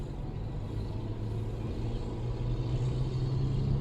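Cabin of a Proton X50 accelerating toward 100 km/h: steady low engine and road rumble with tyre roar and wind noise, a rising hum building gradually.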